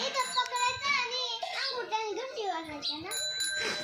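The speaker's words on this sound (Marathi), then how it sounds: "हा अंगठ्याने घंटी वाजवायची तिथं हँडलला पकडून." A bicycle bell dings a few times, thin and bright, while a child and an adult keep talking over it.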